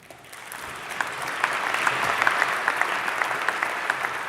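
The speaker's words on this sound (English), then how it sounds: "Let's give them a round of applause." Audience applause after energy, cooperative and corporate leaders are recognized for pollinator-friendly solar work, a steady round of clapping that swells and holds for several seconds with a few sharper claps standing out.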